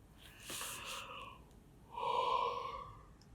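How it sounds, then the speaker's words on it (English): A person yawns twice in a quiet indoor setting, a breathy intake followed by a longer, louder drawn-out yawn with a voiced tone, close to the listener, with no talk. "I don't know why I'm yawning."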